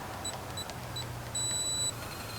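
An electronic keyless entry keypad on a motorhome door lock gives a few short, thin beeps followed by one longer tone, all close and fairly faint over a low background hum.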